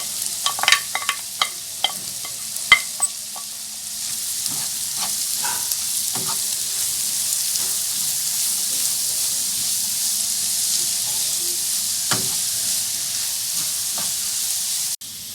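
Carrots and leeks stir-frying for chicken fried rice: a steady loud sizzle runs throughout, with sharp utensil clinks and scrapes against the pan clustered early and a few more later, and no talking.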